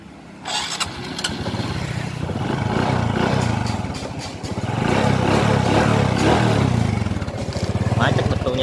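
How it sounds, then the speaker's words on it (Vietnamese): A Honda Future motorcycle engine, from 2007 or 2008, starts up and runs loudly nearby, idling with a steady chugging rumble and a couple of swells as the throttle rises. "Nổ máy cho anh em nghe."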